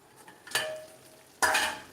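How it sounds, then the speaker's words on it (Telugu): A faint sizzle of chicken frying in a hot pan, punctuated by two sharp bursts of frying as the chicken is stirred, close by. "సలసలసల మరుగుతుంది"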